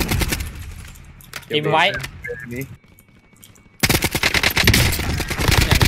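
An An-94 rifle fires in the video game Call of Duty Warzone, dense rapid bursts of loud automatic gunfire at the start and again continuously in the final seconds, with someone speaking in between during a quieter gap.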